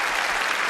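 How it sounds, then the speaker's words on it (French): Studio audience on a French TV talk show applauds a contestant, a dense steady wash of many hands clapping, fairly loud and continuous throughout the short burst. "on l'applaudit"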